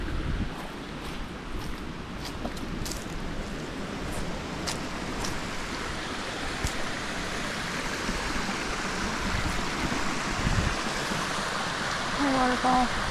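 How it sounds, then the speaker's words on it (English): A waterfall and the creeks that feed it roar steadily on a hiking trail near Pogradec, Albania, with a dense, constant rush of flowing water close by. A few faint voices can be heard. "Waterfall."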